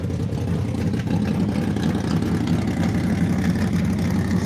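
A go-kart engine idling at roughly 1,200 to 1,300 RPM, a steady, close, low throbbing rumble with an even chugging pulse and no pauses throughout.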